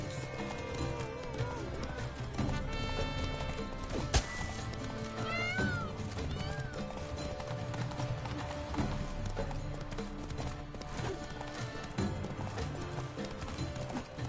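Roach the horse in the video game Witcher 3 trots in an even clip-clop rhythm at moderate distance, layered under game music and ambient sounds with a few animal cries.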